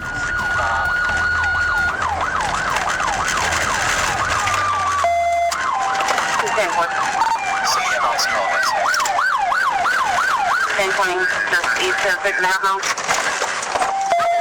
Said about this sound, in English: Lights and sirens followed